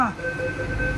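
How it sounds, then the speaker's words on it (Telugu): A driverless automatic train hums along with a steady low rumble and a faint high whine, heard briefly from inside the carriage with voices nearby. "డ్రైవర్లెస్ ట్రైన్ ఇది."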